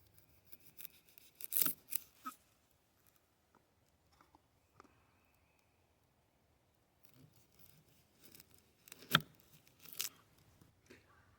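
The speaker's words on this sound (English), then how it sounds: "the first step is to peel and cut the shallot." A shallot being peeled and cut in a quiet kitchen: scattered crisp papery crackles and knife snicks in two bursts, close up, separated by a near-silent pause.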